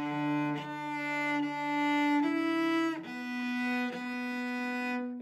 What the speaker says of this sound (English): So we're going to play E and then slide down to B.